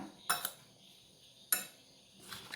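A spoon clinks against a bowl while pepper powder, chilli flakes, oregano and salt are mixed for a bread pizza topping, giving three sharp separate clinks amid quiet, close by and with no voices.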